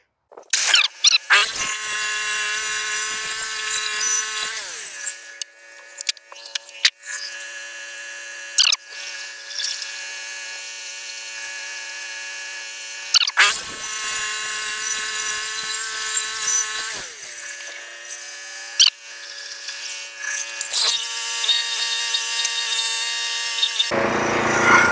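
A sawmill blade cuts boards from a log at six inches off the deck, a loud sustained whine rising twice into long cuts with brief drops and clunks between passes.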